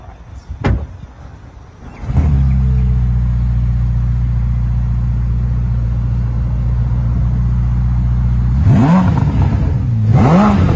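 A hybrid Ferrari with a 4-litre twin-turbo V8 and three electric motors starts up with a sharp bark, then settles into a loud, steady, close idle before two rising revs near the end.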